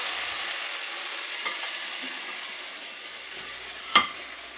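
Cornbread patties fry in hot grease with a steady, close sizzle that holds level throughout, broken by a sharp crackle near the end.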